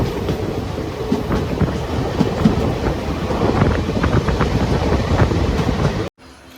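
A passenger train runs on the single-track Shoranur–Nilambur rail line, a loud, close, continuous rumble with rhythmic clickety-clack of wheels over rail joints, cutting off abruptly at the end.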